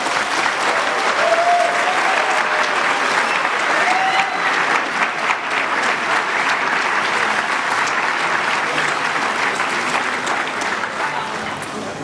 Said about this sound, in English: So a big round of applause for all our sponsors,